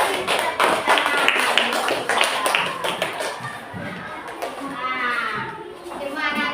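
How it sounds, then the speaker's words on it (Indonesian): Children in a classroom clap their hands in a dense, lively burst that gradually thins out, with voices talking over and around the applause. "Yuk, kasih tepuk tangan."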